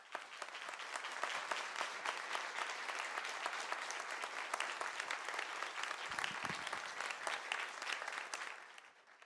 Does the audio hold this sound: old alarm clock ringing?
no